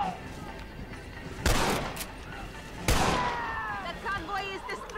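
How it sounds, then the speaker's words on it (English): Gunfire in the Western video game Red Dead Redemption, two loud sharp reports with ringing tails about a second and a half apart, over a busy game background. "Position to shoot these buggers anyway."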